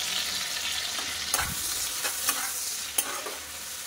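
Large prawns fry in a pan seasoned with turmeric, salt and garam masala, giving a steady close sizzle with a few sharp spattering pops and stirring scrapes, no voices.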